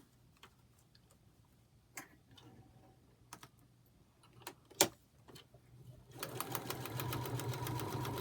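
Quilt pieces being handled with scattered clicks and taps, then a sewing machine starts up and stitches in a steady rapid run toward the end.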